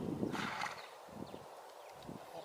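Horse moving at a trot during a flatwork riding session with a coach, giving soft rhythmic hoof beats that sound moderately close, along with faint background rustle.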